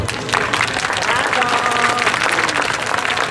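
Audience applause after a spiritual talk by Indradyumna Swami at an India festival, dense steady clapping from a crowd filling the whole stretch, loud and close, with a few voices mixed in.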